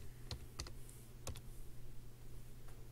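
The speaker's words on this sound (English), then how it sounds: "I'm going to type live." Several quick, faint key clicks come in short bursts from a computer keyboard in a quiet room with a steady low hum, then the typing fades into background noise.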